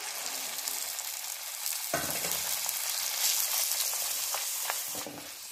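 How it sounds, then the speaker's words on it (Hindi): Puris fry in hot peanut oil, giving a dense, steady sizzle and hiss that swells when a fresh puri drops in, close and loud, with occasional stirring clinks and no talk. "अब इसमें हम पूड़ियां तलते हैं।"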